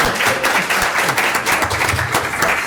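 An audience at a public forum on housing and ending AIDS in New York State claps steadily and densely, a dense patter of many hands sustained throughout.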